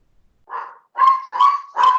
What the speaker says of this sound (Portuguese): agora é o meu cachorro aqui